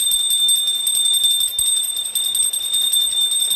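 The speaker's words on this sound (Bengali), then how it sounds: "পূজারি ঘন্টাটা ঠিক করে বাজাতে পারছে না" A hand bell rings during a puja at a village home, giving a steady, bright, continuous jangle close by that fills the whole stretch without pause.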